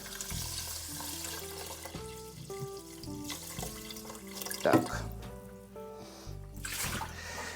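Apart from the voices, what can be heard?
water poured into the rice cooker pot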